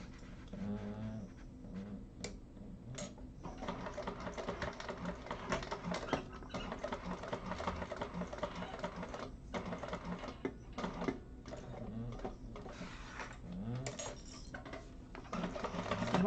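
A sewing machine stitches a leather Penny Inn wallet with a quiet, continuous rapid chatter and irregular clicks and pauses throughout.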